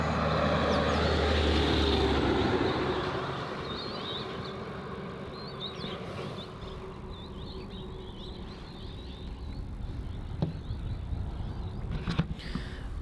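A Thai Airways Airbus A350 starts moving at an airport, its jet engines giving a steady, broad roar that is loud at first and then eases to a sustained hum. No voices are heard.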